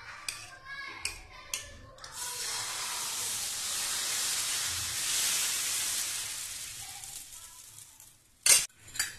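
Ragi, kambu and solam millet dosa batter cooks on a hot pan with a rising hiss that swells and then fades. Short clinks come before it and a sharp utensil knock comes near the end.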